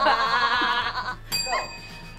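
A human voice imitates a sheep's bleat with a wavering, nasal 'baa' during a party guessing game, followed by a short bright bell-like tone and a second, quieter vocal bleat.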